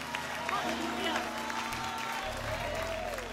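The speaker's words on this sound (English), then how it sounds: "Come on, clap your hands again." Church congregation clapping along on a Sunday night service, a steady crowd of hands under music with sustained organ-like tones and a voice calling out over it.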